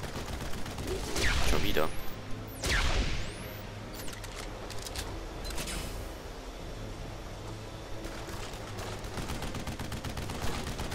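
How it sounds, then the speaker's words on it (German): Gunfire blasting rocks in the shooter game Duke Nukem Forever: a couple of loud broadband bursts early, then sustained rattling shots and rumble, with someone speaking German briefly over it. "Komm, schieß die Felsen kaputt."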